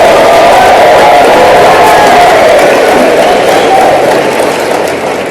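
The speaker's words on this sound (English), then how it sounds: "Give yourselves a round of applause" A large seminar audience applauding and cheering for a motivational speaker, a dense, loud roar of clapping and voices held throughout before gradually easing off.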